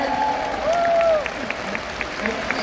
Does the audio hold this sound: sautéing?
no